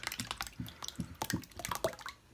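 Chicken and vegetable broth poured through a cloth-lined colander into a bowl, giving wet splashing and trickling with scattered drips and squishy sounds, close and uneven.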